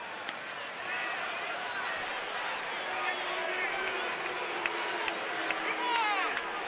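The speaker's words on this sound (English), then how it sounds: "Crowd getting impatient." A baseball stadium crowd, Miami at Washington, murmurs and stirs impatiently, a steady distant hum of many voices with faint scattered claps and calls, a commentator talking over it.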